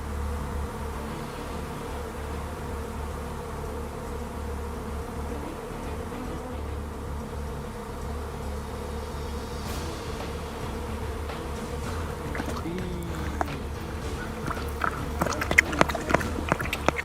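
Bees swarm around a hive on a South African honey farm, giving a steady dense buzzing drone that runs throughout, with a few sharper knocks and rustles near the end.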